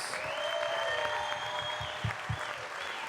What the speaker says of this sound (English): we're going to give everybody the same big round of applause